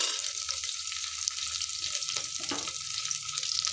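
Onions sizzling in a pan of ghee and oil for bagara rice, a loud, steady hiss of frying that fills the whole moment with faint clinks underneath.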